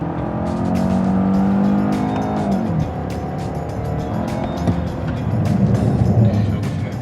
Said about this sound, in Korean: 브레이크가 소리가 나고 있어요. 그죠?